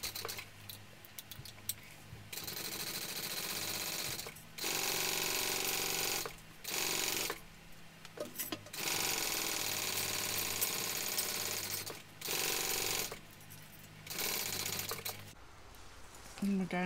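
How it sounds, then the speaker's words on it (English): A sewing machine stitching a seam on a foam-padded mini backpack, running in several bursts of steady rapid whirring separated by short pauses, with a voice speaking between runs. "we're going to sew that with the seam allowance given in the pattern"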